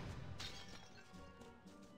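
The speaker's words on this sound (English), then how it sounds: "Wow, I destroyed a glass." Glass smashing in the Harry Potter and the Chamber of Secrets video game on GameCube, a short crash with bright scattered debris over steady in-game music, with no talk.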